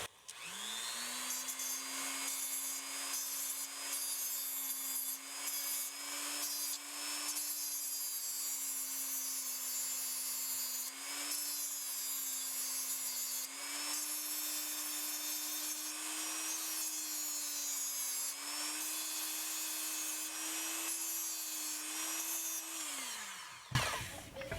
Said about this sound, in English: I'm going to use the Dremel, so this might be a bit loud.